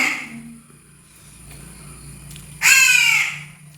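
A single loud, harsh caw from a crow chick rings out close by after a quiet stretch with faint background hum.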